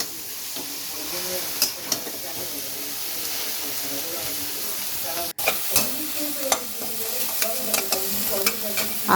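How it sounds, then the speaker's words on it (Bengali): Chow mein being stirred in a pan with chicken stock, a steady loud sizzle and hiss with repeated scraping strokes of the spatula close by, continuing throughout. "চাউমিনটা প্রায় আমার হয়েই গেছে একটু ভালো করে মিশিয়ে নিচ্ছি"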